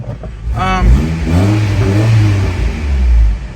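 A small Geo truck engine runs steadily at idle, its low rumble continuous, with a brief rev or whine near the start and faint voices underneath.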